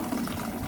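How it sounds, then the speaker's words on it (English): A Samsung washing machine that had not been spinning and showed a 5E/SE error pumps out water in a steady, even gurgling rush, faint and continuous with no talking. "machine is pumping out the water."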